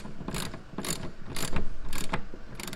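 A ratcheting wrench tightens a fitting on an RV fresh water line, giving repeated close clicking bursts in a steady rhythm of about two strokes per second, loud and alone.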